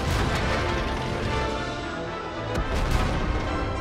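Rapid autoloader tank gun fire from World of Tanks emptying its magazine, a few heavy booming shots loud over dense continuous battle rumble.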